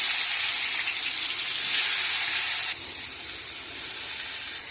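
Onion and tomato frying in hot oil, a loud, continuous close-up sizzle and hiss that swells briefly and then settles slightly quieter.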